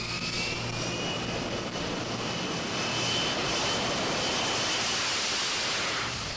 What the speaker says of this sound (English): They're flying F-35 jets towards the Arctic.